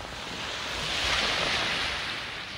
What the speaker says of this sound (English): To the beach, Sandcastle Beach.